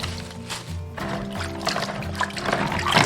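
Water is poured and splashes in a bowl while razor clams are rinsed, a steady close trickle and slosh that grows slightly louder toward the end.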